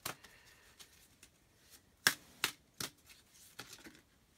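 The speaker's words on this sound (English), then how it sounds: "I'm going to stop shuffling because they keep jumping out and like with big clumps" Tarot cards are shuffled by hand in soft, irregular riffles and sharp snapping slaps, a few louder clusters among quieter rustles, close and intimate with no voice.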